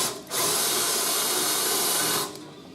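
A power drill bores out spot welds on a Triumph TR3 body panel, one sustained loud whine of the bit cutting through steel that starts abruptly and stops just as suddenly, close up and alone.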